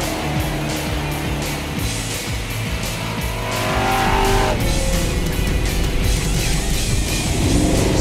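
A Pontiac Trans Am muscle car racing, its engine roaring steadily and loudly while the tires squeal and skid, the sound swelling as it nears.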